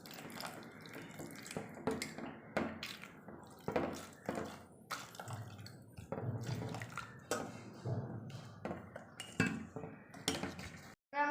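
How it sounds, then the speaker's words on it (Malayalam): Spoon clinking and stirring in a bowl as mashed fruit is mixed with water for homemade mixed juice, a series of close, irregular scrapes and taps with brief pauses. "നമുക്കിനി ഉടച്ച് വെച്ച പഴത്തിനകത്ത് കുറച്ച് വെള്ളം ഒഴിച്ച് നമുക്കിനി ഇത് മിക്സ് ചെയ്തൊന്ന് എടുക്കാം"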